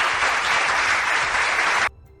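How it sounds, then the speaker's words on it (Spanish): A crowd's applause, a dense patter of many hands clapping steadily for about two seconds, then stopping abruptly. "Déjame darte un aplauso ahí, Chevo."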